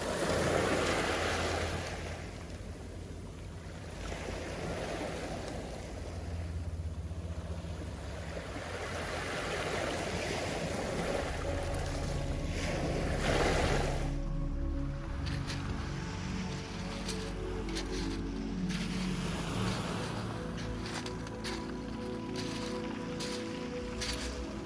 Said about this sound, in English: As you can see, is the beach in Dieppe, very stony, so it's a stone beach